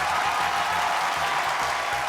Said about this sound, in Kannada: ಏ, ಜೋರ ಚಪ್ಪಾಳೆ ಬರಲಿ.